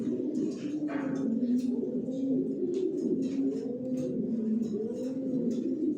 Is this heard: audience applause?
no